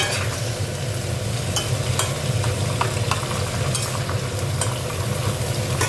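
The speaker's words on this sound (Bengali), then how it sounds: "ভেজে নেব সবজি। মাছের মাথাটা দিয়ে দেবো এটা" Fish head and vegetables frying in oil in a pan for a Bengali tel chachori, with a loud, continuous crackling sizzle and frequent spatters and utensil scrapes, close and alone.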